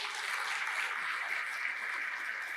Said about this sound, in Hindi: ढंग से बजाओ ताली यार,